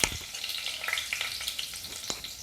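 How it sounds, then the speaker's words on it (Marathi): Mustard seeds crackle and pop in hot oil for a tempering in a small pan, giving close, quick irregular snaps over a soft steady sizzle, with no talking. "आता मी त्याच्यामध्ये राई टाकते फोडणीला. राई तडतडली की आपण कढीपत्ता टाकून घेऊया."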